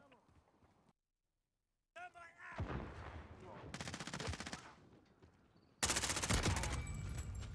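Call of Duty gunfire erupts in rapid automatic bursts, loud and dense, with a brief silence near the start, and players' voices talk over the shooting.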